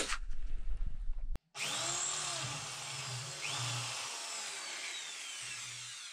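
A power drill with a 3.5 mm bit boring into steel on a rifle stock fitting: a short burst of drilling, a brief pause, then a steady, continuous whining grind at close range.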